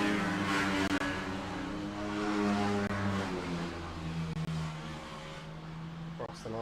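Racing karts at a club kart championship round pass along the track, their high engine whines rising and shifting in pitch as they go by, under continuous commentary.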